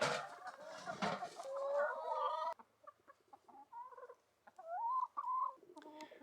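Rescue hens cluck and murmur close by, a burst of louder squawking clucks first, then softer, scattered clucks and warbling calls.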